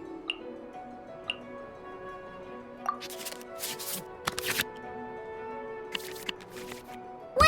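Digital playing cards shuffle back into a draw pile in the Genius Invokation TCG card game, heard as crisp flurries of riffling card sounds over soft game music tones and sparse clicks.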